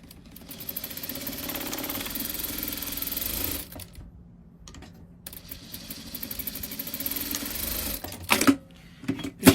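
A sewing machine stitching a seam on fabric, running in long steady mechanical bursts with a pause in the middle and some clunks and handling noises near the end, close and fairly quiet, with no talk.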